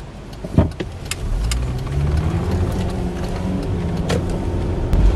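A car cruises along a German autobahn, a loud, steady road and engine drone with tire roar and wind rush, a few brief clicks and thumps from inside the cabin, no voices.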